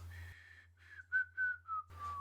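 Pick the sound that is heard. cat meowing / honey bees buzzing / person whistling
person whistling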